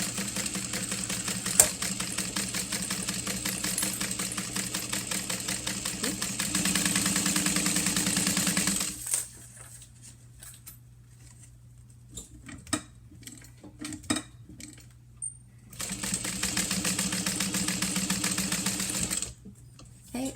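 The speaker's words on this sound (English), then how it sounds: "Now we're going to sew down." A sewing machine stitches fabric down in a fast, rhythmic whirring chatter, runs for about nine seconds, pauses with a few clicks and handling sounds, then resumes its steady stitching near the end.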